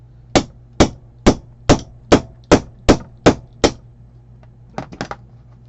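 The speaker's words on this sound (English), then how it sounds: "Jeweler's hammer. Just because I'm working with plastic," Nine sharp, evenly spaced taps from a small jeweler's hammer on hard plastic, loud and close, followed by a quicker cluster of lighter taps.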